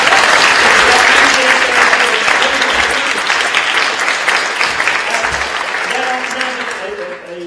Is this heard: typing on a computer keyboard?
no